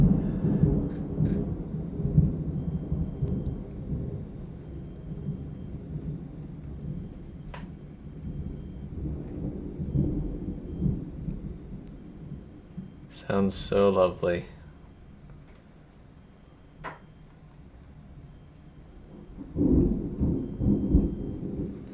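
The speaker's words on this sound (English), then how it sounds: "Kansas summers are hot, but we get these thunderstorms all the time in the early evening. Here's the rain." An early-evening summer thunderstorm in Kansas brings low rumbling thunder and a steady wash of rain, with a sharp crack of thunder midway, heard indoors while a person talks quietly.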